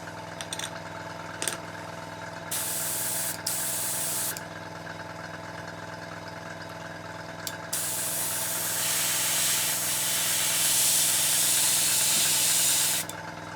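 An airbrush sprays paint onto a 1/35 scale German WWII Panzer I Ausf C model tank, making hissing bursts that start and stop, then a longer steady spray, close over a constant background hum, with no talking.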